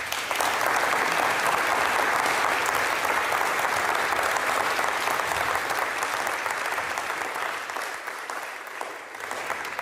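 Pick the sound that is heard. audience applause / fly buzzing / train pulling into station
audience applause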